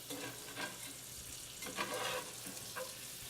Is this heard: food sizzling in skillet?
yes